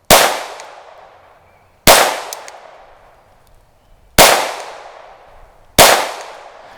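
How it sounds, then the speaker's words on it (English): Four loud, sharp metallic pings from Taurus TX22 pistol rounds striking steel targets at a range, each impact ringing out and decaying over a second or two, spaced roughly two seconds apart with no talk. "Man, this is a fun gun to shoot"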